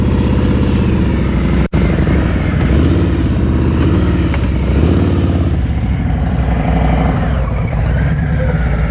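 A motorcycle pulls away during slow-speed riding practice, its engine a continuous close, loud rumble with gentle throttle swells and a brief sharp dropout partway through, no voices.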